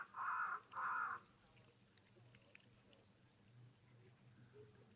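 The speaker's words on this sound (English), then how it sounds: "And off that crow goes." A crow gives two loud, harsh caws in quick succession near a waterhole, followed by quiet outdoor ambience with faint background sounds.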